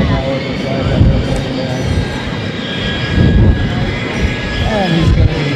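A Lockheed U-2 spy plane passing over Beale AFB sends a loud, continuous jet engine roar that rises and falls as it moves, with a voice commentating over it.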